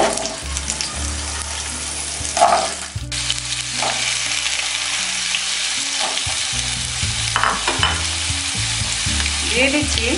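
Potatoes with black cumin and a teaspoon of salt fry over medium heat in a pan, a loud close sizzle under repeated scraping and stirring strokes, with no speech.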